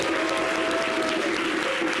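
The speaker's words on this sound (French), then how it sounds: "On applaudit." Steady applause from a TV show studio audience, dense clapping at an even level throughout with a faint sustained tone running beneath it.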